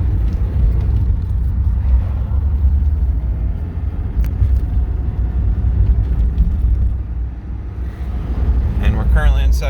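A 1983 Porsche 944 in second gear pulls from low revs with a continuous deep rumble that holds steady throughout, heard from inside the car with road noise mixed in.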